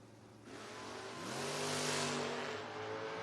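At a footbrake drag racing event, a 1979 Aspen wagon and a 1992 Mustang launch together, their engines roaring and rising in pitch as they accelerate, loud and fairly close with a broad rushing noise.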